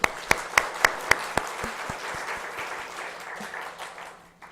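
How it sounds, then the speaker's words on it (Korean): A church congregation claps in unison: five or six sharp, evenly spaced claps up front, then a softer, looser round of applause that fades away, with a faint voice beneath. "하나님 앞에 영광의 박수"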